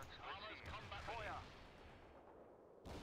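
Artillery barrages and gunfire in the strategy game World in Conflict rumble and crack in a dense burst, with someone speaking over the shelling before a brief lull and a renewed blast at the end.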